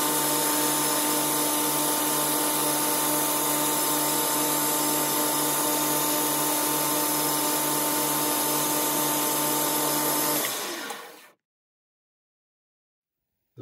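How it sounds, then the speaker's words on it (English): A lathe refaces a small recast aluminium piston keychain after parting off, giving a steady, loud whirring cut with a constant motor tone for about ten seconds before stopping abruptly into silence. "Last step on the lathe is just a reface to clean up from the parting off."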